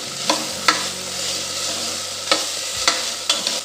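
Beetroot pieces sauté in hot oil in a pan, a steady close sizzle broken by several sharp scrapes and clinks of the spoon, with no voices.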